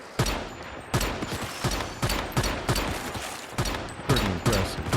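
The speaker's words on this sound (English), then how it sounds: "To be able to hit them from distance with just a pistol." Pistol fire in the Once Human video game, a steady series of sharp, loud single shots spaced about half a second apart, with no talk over them.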